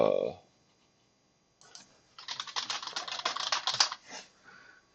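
A computer keyboard with a reported fault, not working properly, is tapped in a rapid, close burst of key presses lasting a few seconds, after a short noise and a quiet pause.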